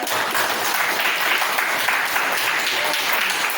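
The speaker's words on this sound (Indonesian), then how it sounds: "Tepuk tangan dong." Students in a classroom applauding a classmate after a lesson on computer systems; dense, even clapping from a group, close and steady throughout the short burst.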